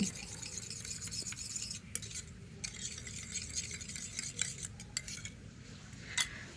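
Spoon stirring baking soda and salt into water in a bowl or cup, a steady scraping swirl with small clinks of metal against the vessel, continuous and close, with no one talking.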